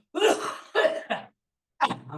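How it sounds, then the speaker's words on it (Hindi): Coughing from a cold, one person giving a few short, close coughs, a pair in quick succession, then a pause and another cough. "हमको जुकाम था इसलिए खांसी आ रही है"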